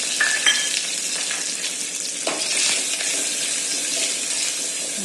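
Sliced green chillies, curry leaves and a pinch of asafoetida crackle and sizzle in hot oil, a steady loud frying hiss with brief sputters and pops near the start and midway.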